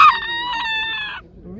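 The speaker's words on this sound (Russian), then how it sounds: "Видите, еще кукарекать умеет." A dwarf bantam rooster at a livestock fair crows once, loud and close, in a strained crow about a second long that cuts off sharply, followed by faint background noise.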